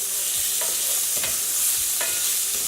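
Shrimp fry in a pan with a loud steady sizzle, while a few distinct scraping clicks from stirring or tossing stand out against the hiss; no speech.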